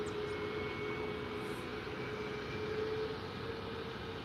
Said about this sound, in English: Un Ryanair 737 MAX 8 acaba de retroceder del gate.